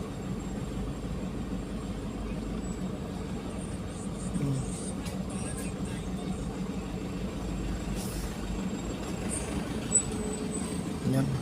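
Heavy road traffic in Sarawak with trucks and buses, a steady low rumble of engines throughout, a brief hiss like an air brake near the middle and a few faint higher tones above the continuous drone.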